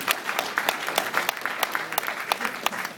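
Audience applause for a man with a green beard on stage, a dense steady patter of many hands clapping close and loud throughout, with no talk over it.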